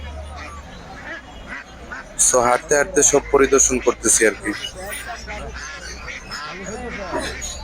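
Someone talks over a busy outdoor village poultry market, with ducks for sale quacking intermittently in the background and general crowd murmur.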